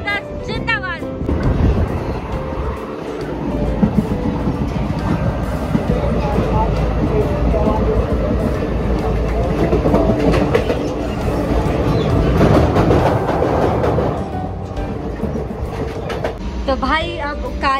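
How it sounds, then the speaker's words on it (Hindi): Srinagar to Banihal Vistadome train running, a loud continuous rumble of wheels and carriage noise heard from inside the coach, with occasional clatter, sustained throughout at close range. "ट्रेन चल रही है अपनी बिल्कुल मस्त वाली"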